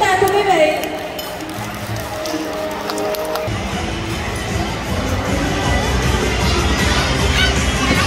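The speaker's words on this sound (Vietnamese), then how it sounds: "hãy cùng dành một tràng vỗ tay thật đông nhiệt để cùng chào đón hai tài năng lớn của chúng ta" At a wedding, an audience applauds and cheers to welcome two young magician performers. Voices come first, then a dense wash of clapping and cheering rises and holds steadily to the end.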